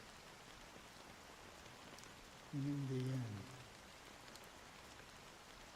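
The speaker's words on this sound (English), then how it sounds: "How long has this rain been going on?" Steady rain falling in the video game Honkai Star Rail, a constant soft wash throughout, with a brief spoken line over it in the middle.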